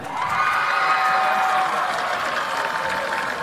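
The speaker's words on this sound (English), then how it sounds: "One more round of applause for all of our nominees tonight." A crowd at an Indiana high school football game, Batesville at East Central, applauds and cheers for the 2024 homecoming queen. The clapping is dense and sustained with scattered whoops and shouts, loud and steady throughout.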